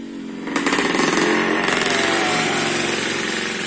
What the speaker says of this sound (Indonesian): sementara ada gangguan motor lewat karena dekat jalan.